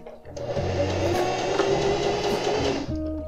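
A domestic sewing machine stitching a seam during a beginner sewing lesson: the motor starts up, then runs as a steady, close mechanical whir with a faint rhythmic needle clatter before easing off at the end.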